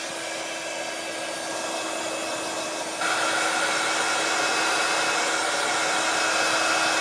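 A handheld heat tool blows steadily to dry StazOn ink for card making, a constant close whooshing hum that steps up slightly louder partway through and continues without pause or voices.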